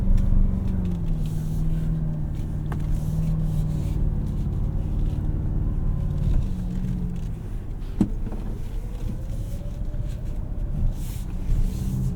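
A 2024 Toyota Tacoma Trailhunter crawls along an off-road trail, a steady engine drone and drivetrain hum from inside the cabin with occasional bumps and creaks.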